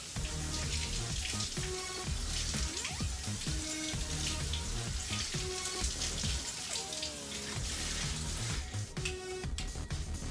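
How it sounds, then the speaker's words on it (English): Oat groats are rinsed in water with continuous splashing, swishing and trickling close by, with no talk. "get all the groats out, rinse them out real good"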